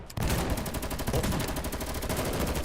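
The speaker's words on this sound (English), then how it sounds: "Are those gunshots?" Gunfire in the video game Girl's Frontline 2 Exilium, a sustained rapid burst of automatic shots in a dense, loud rattling stream lasting several seconds, with no talk.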